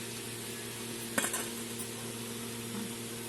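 Spice paste of tomato, green chilli and ginger hits hot white oil for a vegetarian potato curry, a sudden crackle and sizzle over a steady low hum, with a light utensil scrape after.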